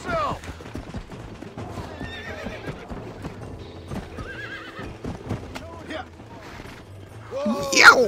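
Horses in Red Dead Redemption, including a Mustang, neighing and whinnying over rhythmic clip-clopping hooves, with a sharp loud whinny at the end and occasional distant gunfire-like pops in the background.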